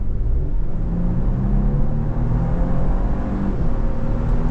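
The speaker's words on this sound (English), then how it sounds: "I'll just show you the kind of kick down performance." Lexus GX 550 Overtrail SUV under full-throttle kick-down from about 40 on a country road, a steady loud engine roar and whir rising smoothly over a few seconds, heard from inside the cabin.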